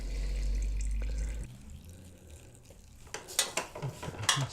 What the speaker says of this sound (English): all the oil flows out